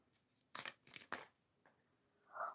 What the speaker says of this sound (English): let me shuffle more cards.